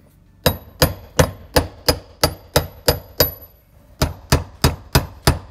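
Brass hammer tapping a copper ring to loosen the fuel pump on an Audi A4: about fifteen sharp, evenly spaced metallic taps close by, a short pause after the first nine, then a second quicker run.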